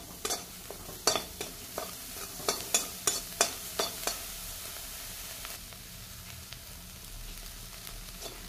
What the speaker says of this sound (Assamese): তেল নিদিওঁ, অকল নিমখতে ভাজি ল'ম মই মাছকেইটা